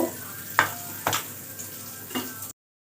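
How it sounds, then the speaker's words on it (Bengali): A little butter melts and sizzles in a hot kadai wok, a soft continuous fry punctuated by three or four sharp stirring scrapes, close and fairly quiet, ending abruptly. "এবার বাটার দেব কড়ার মধ্যে অল্প একটু, এটা মেল্ট হতে দেব।"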